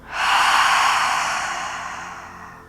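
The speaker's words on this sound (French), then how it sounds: "On inspire à nouveau par le nez et on expire bouche ouverte." A single slow breath during a beginner flow yoga session, drawn in through the nose and released through an open mouth, a near, soft airy exhale that swells quickly and fades gradually.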